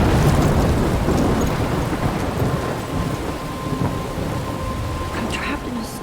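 A thunderstorm in the video game Life is Strange: heavy, loud rain pours steadily with deep rumbling thunder rolling through, no speech over it.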